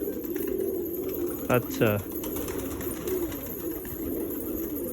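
Pigeons in a loft give a couple of short coos close by, heard partway through amid steady background noise, with someone talking nearby.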